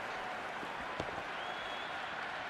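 A stadium crowd roars in the Cricket 26 video game during a Pakistan vs South Africa T20 match, a steady, dense wash of cheering and applause from a distance, sustained without a break.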